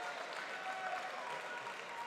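Applause from a fight-night crowd at an Enfusion kickboxing event, a steady, fairly faint wash of clapping with a bright tone running through it, heard from a distance.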